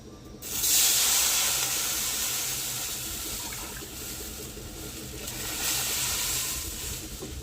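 A pot of water for jaggery semiya payasam rolls at a strong boil, giving a steady rushing, hissing bubble that swells and eases slightly while staying close and continuous.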